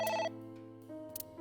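A phone rings in the video game AI: The Somnium Files, giving a sustained electronic ringtone with stepped, chiming tones. It sounds clear and steady, with a low musical drone underneath and no talking.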